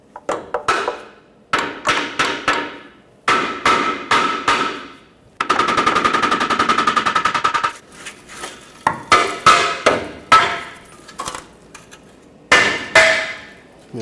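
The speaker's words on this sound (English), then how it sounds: "If you can't pry it, grab a hammer and try to tap it out." A hammer taps and bangs repeatedly on the oil pan of a 2009-2014 Ford F-150 with the 5.4L engine, loud sharp metallic strikes in quick bursts, plus a stretch of rapid continuous rattling hits.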